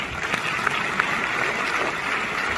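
A crowd applauds at a business seminar, giving dense, steady clapping throughout a short stretch without a break.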